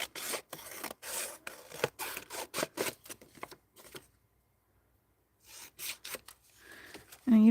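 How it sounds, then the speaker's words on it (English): Scissors cut out a shape in quick rhythmic snips and rasping strokes, close and fairly quiet, pausing briefly before a few more cuts, with a voice heard at times. "Let's get it cut out first."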